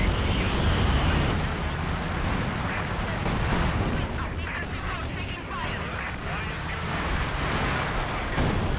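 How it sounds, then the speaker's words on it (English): Airstrike explosions and heavy artillery rumble continuously in a Company of Heroes battle on the Port of Hamburg map, dense booming blasts layered with scattered gunfire. "They're dropping the kitchen sink on me with airstrikes and stuff"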